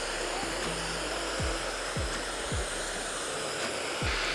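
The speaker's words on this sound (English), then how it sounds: "when you're working with the hairdryer" A hair dryer blows with a steady, loud rushing hiss during a blow-dry styling of short hair, with a few low thumps beneath the airflow.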